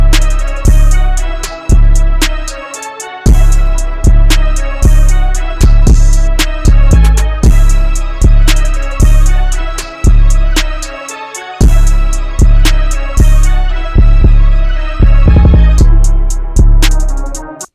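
FL Studio beat with booming kicks, an 808 snare and crisp hi-hats rolling over a melodic loop, steady and loud with regular punchy hits and a few drop-outs.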